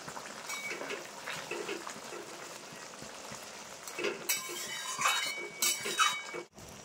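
Fried eggplant is stirred into a small puti fish curry in a pan, with soft sizzling, wet bubbling and a few light metallic clinks of the spoon, close but quiet.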